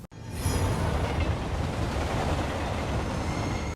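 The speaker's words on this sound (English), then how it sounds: "we hear the train before the shot came through" A train passes in a dark city scene from The Batman, a dense rumbling rush that swells in within the first half second and holds steady and loud without pause.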